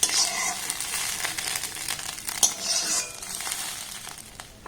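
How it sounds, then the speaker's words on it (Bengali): An egg fries and is scrambled in a pan, giving a soft, steady sizzle broken by scraping stirs and light metallic clinks of a spatula, fairly quiet and close. "ডিমটাকে এইভাবে একটু ঝুড়ো ঝুড়ো করে ভাজতে হবে"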